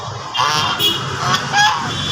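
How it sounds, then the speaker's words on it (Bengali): A king goose honks several times in quick succession, harsh nasal calls close by over a steady outdoor background, with no talking. "অনেকে রাজা হাঁস চিনেন না, এই যে রাজা হাঁস।"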